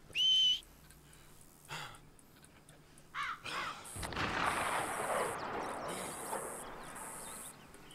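A single big gunshot from Red Dead Redemption 2 cracks loudly mid-clip and rolls into a long rumbling decay, following a brief whistle-like tone and faint scattered calls.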